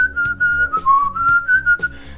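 A person whistles a short melody, clear and close, with a steady tone that bends briefly lower before returning, heard alone with no talking.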